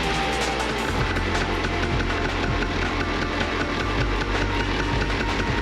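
Piaggio Vespa PX 125/150/200cc scooter engine with an MVT Digital Direct ignition running steadily after starting, a close, continuous buzzing idle with a slight knocking rattle.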